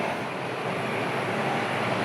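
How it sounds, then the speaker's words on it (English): A Virgin Atlantic Airbus A330neo lands in Atlanta, heard as a steady, broad jet roar from a moderate distance, holding even and unbroken with no voices. "that should be the first Virgin Atlantic of the day. This A330 from London Heathrow."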